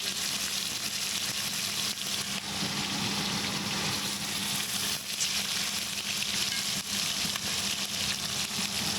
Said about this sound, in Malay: Kita goreng ayam ni dulu.